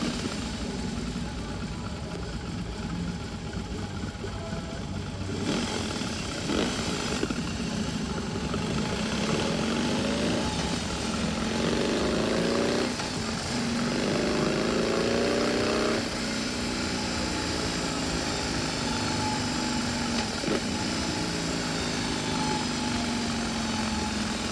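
A BMW R 18 Classic motorcycle, with a two-cylinder four-stroke air- and oil-cooled engine, runs continuously at a moderate distance, a steady engine drone with a few brief rises in pitch over about twenty-four seconds.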